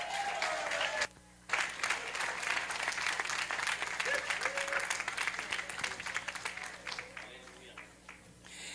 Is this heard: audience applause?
yes